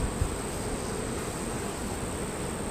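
A honeybee colony hums in a dense, continuous buzz during a late-July hive inspection of a double-stacked nuc, steady and close with a high whine over the low drone.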